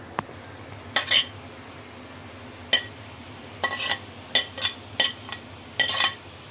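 Pieces of chicken tipped into a pan of spiced masala and stirred with a spoon, a series of short scraping clinks and stirs spaced a few seconds apart over a quiet background.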